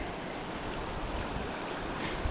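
Rapids on the South Fork American River rush in a steady, broadband wash of flowing water, continuous and fairly close with no voices.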